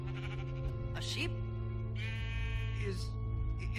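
A sheep bleats in the video game Minecraft, two or three short wavering cries set against quiet background game sounds and a low steady hum.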